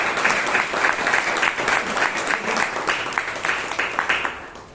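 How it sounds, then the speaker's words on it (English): Members at a Toastmasters meeting in Bangalore applaud Himani, a lively burst of many hands clapping in quick uneven pulses, loud at first and tapering off toward the end. "please give Himani a big round of applause"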